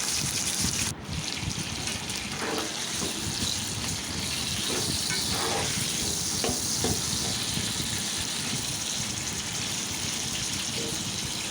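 Chicken pieces sizzling in hot soybean oil in a wok for a Chinese-style chicken curry, a steady loud crackle and hiss running throughout with occasional stirring scrapes.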